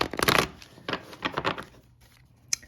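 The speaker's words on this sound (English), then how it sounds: "So I'm just going to do a little bit of shuffling." Tarot cards shuffled by hand during a reading, giving several short bursts of riffling and flapping card noise with pauses between, ending in a single sharp snap, close and moderately loud with no talk.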